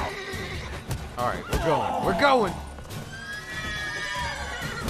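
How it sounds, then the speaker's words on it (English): Panicked horses whinny and neigh loudly in The Witcher 3: Wild Hunt, several rising and falling cries overlapping with clopping hooves, while someone talks excitedly over them. "Horses are freaking out"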